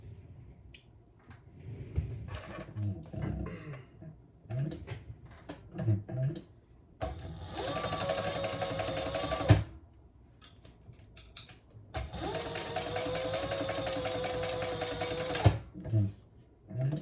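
A sewing machine stitches fabric in two long, loud, rapid bursts separated by quieter handling and pauses, with scattered clicks and a person talking during the gaps.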